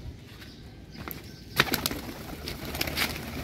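Pigeons' wings flap in a few quick bursts against quiet outdoor background noise.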